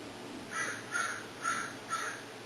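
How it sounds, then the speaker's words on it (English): Crows cawing outdoors, four evenly spaced harsh caws at moderate distance over a quiet background, with no voices present. "hear the birds"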